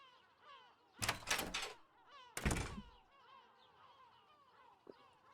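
Two loud mechanical whooshes of a sliding door in a video game, one opening and then one closing about a second later, each a broad rushing burst, followed by quieter ambient game sounds.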